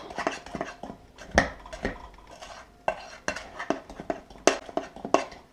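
A spoon stirs vanilla into cookie batter in a bowl, giving a run of irregular scraping and clinking strokes against the dish, close and fairly loud, with no voices over it.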